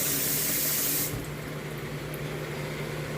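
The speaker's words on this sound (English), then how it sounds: "I'm gonna go ahead and drain it out" Hot water from boiled noodles poured out into a kitchen sink, a steady loud hissing gush that drops to a softer rushing trickle after the first second.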